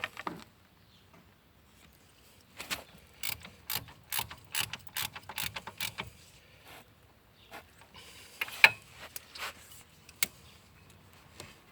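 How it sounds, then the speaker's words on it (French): A ratchet wrench tightening the rear bolts on a Citroën C4 Picasso front brake after a disc and pad change, a close run of quick rhythmic clicking bursts, then a few scattered metallic clanks, no talk. "Et vous remettez ces fameux boulons derrière. Et vous revissez bien."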